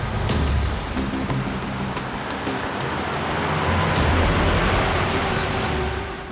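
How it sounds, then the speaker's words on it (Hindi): A car goes by in a dramatic scene: a steady broadband rumble with a hiss like rain that swells slightly near the middle and fades. No talking is heard. "सर गाड़ी की आवाज सुनी आपने?"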